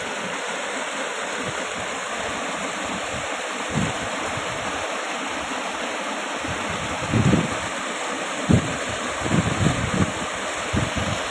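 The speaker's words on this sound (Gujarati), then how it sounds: "પાણી રસ્તામાં જાય છે, ગાડી પણ ચાલતી નથી." Floodwater rushes steadily over a farm road in a continuous, loud broadband wash, with a few low thumps and splashes breaking through near the end.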